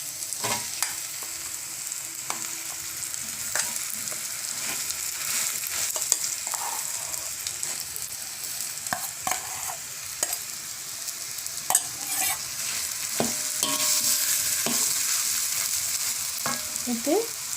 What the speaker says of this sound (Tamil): ஒரு கிளறிட்டு உருளைக்கிழங்க சேர்த்துடலாம்